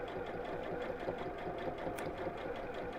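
Sewing machine stitching along a line, a steady fast mechanical whir and rattle running continuously at an even pace, close and moderately quiet, with no voice over it.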